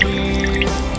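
Liquid drips and squishes as a kiwi fruit is cut open in a mock surgery, a short close burst of wet dripping over a steady background hum.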